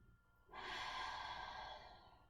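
Deep breath during a hips and hamstrings yoga flow, with one long, soft, airy exhale starting after a brief pause, close and fading gently.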